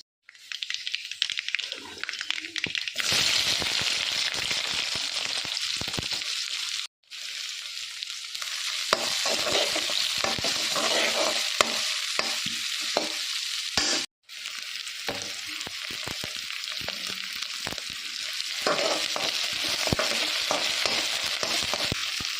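Onions frying in a coconut-oil tempering, a loud close sizzle with repeated stirring scrapes of a spatula, broken by two brief pauses, no one talking.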